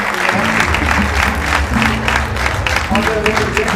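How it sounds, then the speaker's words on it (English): Audience applause rolls through the hall at a football awards ceremony, steady and full throughout, mixed with crowd murmur and music playing underneath. "give them a round of applause"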